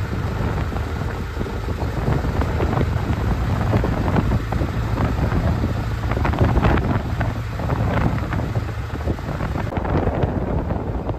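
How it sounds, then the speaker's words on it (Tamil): Heavy rain pours down at sea onto a fishing boat, a dense, steady roar that stays loud and unbroken throughout, mixed with wind buffeting against the microphone and no voices. "மழை அடித்து பேஞ்சிட்டு இருக்கு பாருங்க"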